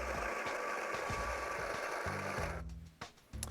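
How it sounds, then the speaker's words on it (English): A Breville Dose Control Pro coffee grinder grinds espresso beans into a portafilter in its cradle, a loud, steady motor whir for over two seconds that cuts off, followed by a few light knocks and clicks. "insert it into our grinding cradle and press the grinder to start"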